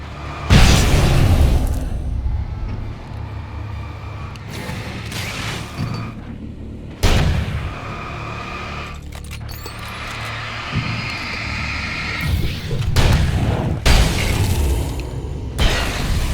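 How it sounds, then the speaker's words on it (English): Flashbang explosions in the video game Alan Wake: several sharp, loud booms spaced several seconds apart over a low, rumbling ambient background. "Flashbangs are ready."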